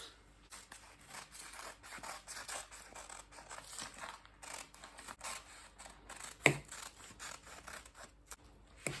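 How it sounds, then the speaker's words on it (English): Scissors cut out blouse fabric in a series of quiet, close snips and slides, with one sharper click partway through. "So we are cutting our blouse out now."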